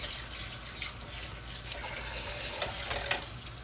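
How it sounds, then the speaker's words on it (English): A kitchen tap runs steadily while hands are washed beneath it, a soft continuous splash and hiss at moderate distance with small fluctuations as the water stream is broken up. "Wash my hands here."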